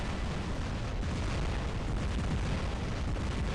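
A Medium Lightning Gun in War Robots fires continuously, a dense, crackling, noisy roar that holds steady at moderate loudness without pauses for several seconds.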